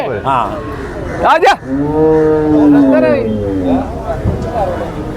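Cows moo loudly and close by, with one long, drawn-out bellow in the middle, among other farm sounds and people talking.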